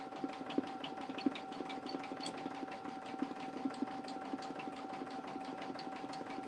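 An embroidery machine stitches a design onto a tote bag with a fairly quiet, rapid, even mechanical whir, broken by small periodic ticks and clacks.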